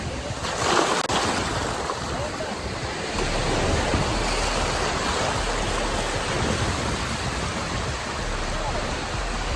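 Surf rolls steadily onto Blue Sand Beach at Trincomalee, Sri Lanka, a continuous broadband wash with wind buffeting the microphone and a faint low rumble throughout.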